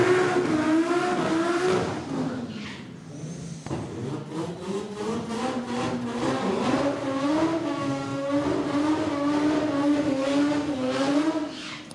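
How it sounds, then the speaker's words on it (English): An Audi S2 drag car, set to two-wheel drive, warms its rear tyres in the burnout box at a drag racing meet, engine droning steady and loud with wavering revs and a continuous tyre roar throughout. "You'll see the Audi S2 roll forward into the burnout box."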